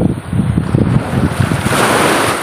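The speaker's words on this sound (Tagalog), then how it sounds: "lakas ng alon" Strong ocean waves surge and crash around a small fishing boat at sea, loud and close, with heavy wind noise buffeting throughout and no talk.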